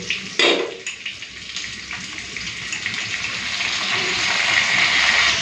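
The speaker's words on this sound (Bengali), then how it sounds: "এখন এই মশলা বাটাটা দিয়ে দেবো" A wet spice paste goes into a pan of frying potato and taro, and a sharp burst of sizzle is followed by a bubbling hiss. The hiss builds steadily and grows louder toward the end, with no talking.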